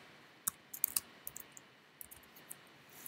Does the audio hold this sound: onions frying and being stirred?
no